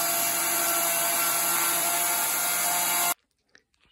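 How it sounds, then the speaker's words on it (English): An electric chainsaw in need of sharpening runs loud and steady, cutting wood in a rural Bulgarian garden for about three seconds, then cuts off abruptly, leaving near silence with a couple of faint knocks. "This is an electric chainsaw."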